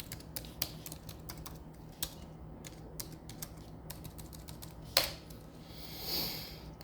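Someone logs in on a computer keyboard: faint, irregular keystrokes tap in quick bursts with short pauses, alone in a quiet room, and nobody speaks.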